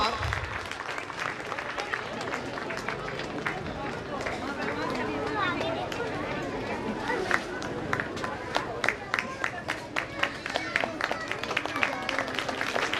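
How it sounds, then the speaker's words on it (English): An audience at a school annual function in Patratu claps steadily and densely, the sustained applause mixed with crowd murmur and a voice speaking over it. "So please go on clapping and encourage them."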